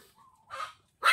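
A dog gives two short barks, the second louder, with a faint whine before them.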